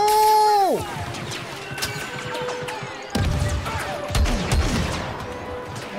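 Blaster gunfire in the Star Wars Battlefront 2 campaign: a descending electronic tone, then rapid bursts of laser shots, impacts and crashes fill the mix. The shots are loud and dense, with only a little game dialogue underneath.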